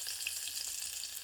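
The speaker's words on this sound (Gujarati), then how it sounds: "તો મિત્રો, આપણે લસણ એડ કરી દઈએ અંદર." Chopped garlic and black pepper hit warm oil for a tempering at the start of a village-style Gujarati potato curry, giving a close, continuous bright hissing sizzle with faint crackles.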